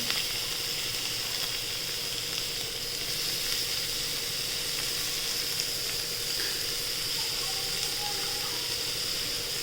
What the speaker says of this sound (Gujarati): હવે એમાં બધા આપણે વેજીટેબલ્સ નાખી દઈશું.